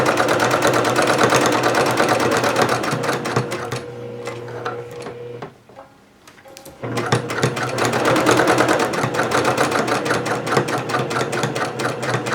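A sewing machine stitches through a fabric courier bag in fast, steady mechanical bursts, pausing briefly midway before running again, close and fairly loud.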